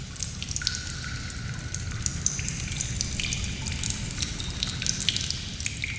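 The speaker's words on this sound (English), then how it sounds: "you can hear the sounds of dripping water" Water dripping in the quiet dark zone of a cave: scattered, faint drips fall at an irregular pace over a low, steady background hiss.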